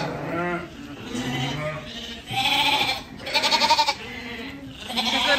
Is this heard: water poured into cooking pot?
no